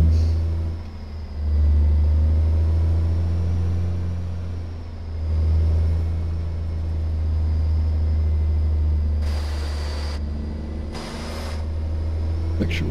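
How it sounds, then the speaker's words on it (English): Kenworth W900L truck with a 690-horsepower Caterpillar C16 diesel and Eaton Fuller 18-speed gearbox in American Truck Simulator: a loud, steady low engine drone that swells and eases as it pulls, with two short hissing bursts near the end. "Got the C16 Caterpillar. 690 horsepower with the Eaton Fuller 18 speed."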